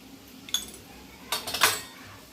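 Spoon scraping and clinking against a pan while turmeric is mixed into chicken, a single clink followed by a brief cluster of scrapes, with no talk.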